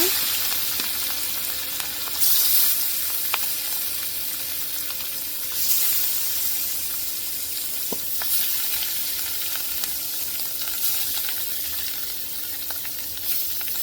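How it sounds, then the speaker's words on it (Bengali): Rohu fish frying in hot oil in a wok, giving a steady close sizzle with a few louder spitting surges and faint stirring clicks, with no voices. "তেলটা একটু গরম হোক মাছ দিয়ে দিব ভাজার জন্য"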